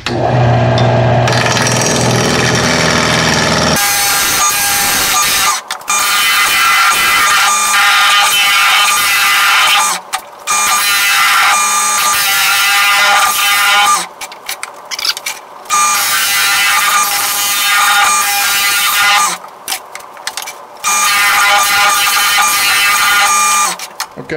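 A bowl gouge cuts into a mesquite blank spinning on a wood lathe to square it up. Loud, continuous scraping and chattering runs across the cut, broken by a few short pauses, with no talking.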